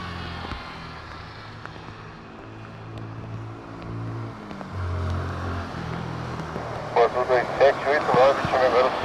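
A Boeing 747-8 arriving at Curitiba rumbles in the distance with a steady, swelling roar, while a voice talks over it and sharper clatter comes in near the end.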